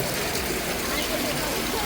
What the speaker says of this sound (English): oh lovely waterfall man-made waterfall